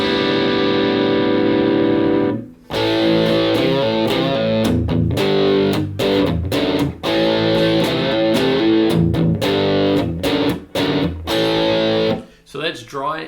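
Electric guitar through a Yamaha THR10 II amp on a crunch setting with more gain and no reverb, playing a sustained, driven riff with ringing chords and palm-muted chugs, close and loud, ending in a few lighter picked notes.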